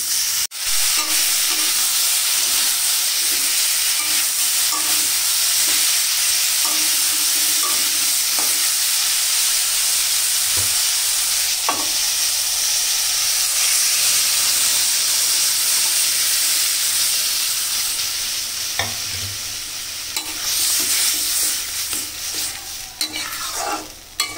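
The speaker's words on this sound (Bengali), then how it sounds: "এটা খুব বেশি ভাজা করব না, শুধু মশলাগুলো যে এর মধ্যে দিলাম সেটা শুধু ভালোভাবে মিশিয়ে নেব।" Panch phoron spices and garlic stirred and lightly fried in a pan, giving a steady, close sizzle with scraping spoon strokes and occasional clinks throughout, no voices.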